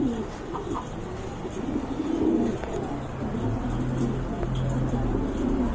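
Pigeons cooing at a pigeon farm, soft low repeated coos from several birds at close range over a steady background hum, with faint distant noises mixed in.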